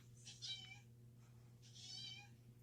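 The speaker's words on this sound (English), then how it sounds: "you all hear that kitty cat in there?" A cat meows twice from behind a closed door, faint and muffled, with a steady low hum in the room and no talking.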